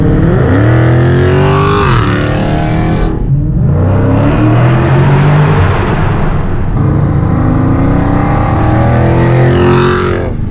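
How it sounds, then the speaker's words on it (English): A Dodge Challenger with a 392 engine revs loudly up close, rising and falling through repeated throttle blips into a sustained roaring pull, with a deep rumbling exhaust throughout. "Now the Challenger is sounding like an animal."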